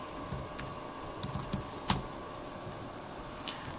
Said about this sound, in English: So if you click in here, you can actually start typing.